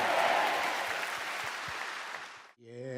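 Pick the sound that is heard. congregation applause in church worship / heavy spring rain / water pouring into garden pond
congregation applause in church worship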